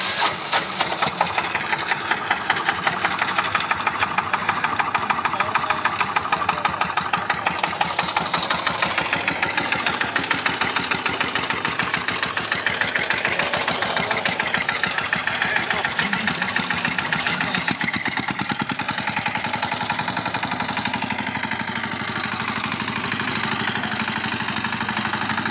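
A Bungartz tractor at the 2018 Liebenwalde tractor meet runs through a demo lap, its engine chugging steadily and loudly near the microphone throughout, with a brief change in tone partway through.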